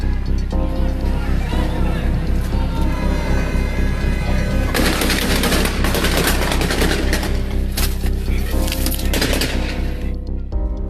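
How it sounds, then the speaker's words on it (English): Rapid bursts of gunfire from Louisville police and National Guard clearing a parking lot at night, loud sharp cracks clustered in the second half over a constant crowd and music background. "the police came out, they started firing shots"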